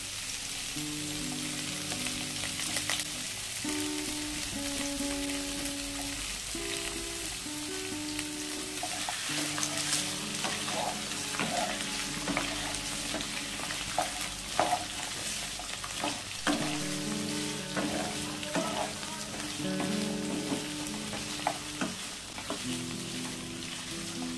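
Mixed vegetables, including potatoes and carrots, frying in a pan for a spinach-stem chorchori: a steady close sizzle runs throughout, broken by repeated scraping stir strokes, with no talk.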